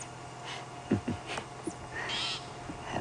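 Juvenile call of a communal nesting bird outdoors on a safari drive, a few short rough squawks followed by a longer harsh drawn-out note, moderately near against a faint background.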